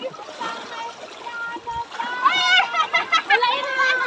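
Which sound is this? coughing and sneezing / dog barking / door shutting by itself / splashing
splashing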